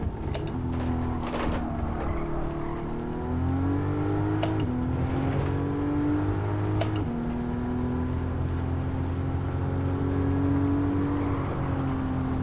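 A race car engine in Gran Turismo 7 revs and shifts through its gears, its tone climbing and dropping steadily under a continuous drone of tire and road noise, loud and close throughout.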